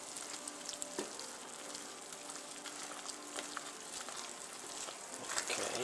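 Peanuts and butter added to hot peanut brittle syrup, a faint, even sizzle and bubbling crackle with occasional soft stirring taps, heard alone.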